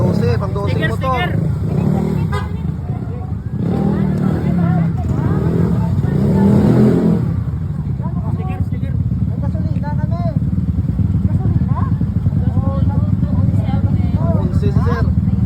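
Several motorcycle engines run at a motovlog riders' gathering, idling and revving nearby under constant chatter and crowd babble, with people talking throughout.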